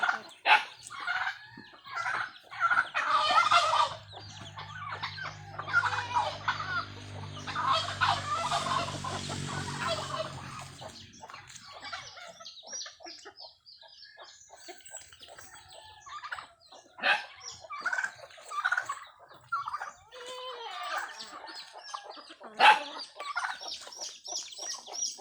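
Backyard chickens with a mother hen and newly hatched chicks: repeated loud crowing, clucking and gobbling calls over faint high chick peeps, fairly close, continuing throughout.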